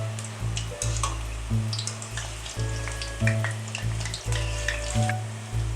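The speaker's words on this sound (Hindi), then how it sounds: "मीडियम गर्म ऑयल में मीडियम फ्लेम पर ही हम ये पकोड़े फ्राई करेंगे।" Potato and spinach pakoras frying in medium-hot oil in a kadhai over a medium flame, a steady close sizzle with a low rhythmic hum underneath and occasional brief clinks, with no talking.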